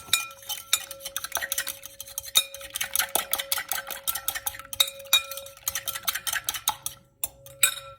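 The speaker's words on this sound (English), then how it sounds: "now you beat the eggs and add the cheese" Eggs are beaten in a bowl for stuffed artichokes, a fork or whisk clicking rapidly against the side in quick, uneven bursts, close and alone with brief pauses.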